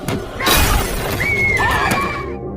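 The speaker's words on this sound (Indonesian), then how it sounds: "orang yang memecahkan kaca mobil" Car window glass smashed in a sudden loud shatter, followed by scattering fragments and a lingering high ring, close and harsh with no talk over it.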